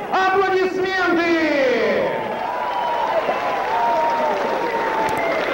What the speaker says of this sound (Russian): Аплодисменты победителю!